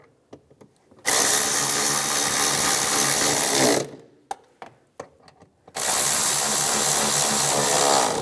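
A power tool runs to tighten the starter bolts on a 2004-2010 BMW X3, with two long steady whirring bursts about three seconds each, separated by a pause of clinks and taps, close and loud.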